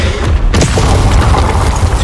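A shot blast from an enemy in the Hogwarts Legacy video game, during a dragon nest section, lands as a single loud booming burst that fills the whole moment with a dense, roaring wash.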